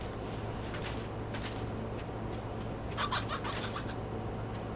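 Chickens cluck in the survival video game 7 Days to Die, with faint bird calls over a steady low hum and a slightly louder burst of clucking near the end.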